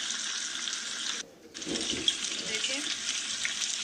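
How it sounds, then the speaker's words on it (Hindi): Fish pieces coated in masala frying in a pan, restaurant-style fish fry, with a steady broad hiss and sizzle that briefly drops out midway before resuming, a short spoken word over it. "थोड़ा सा इसको इसी तरह फ्राई होने दें।"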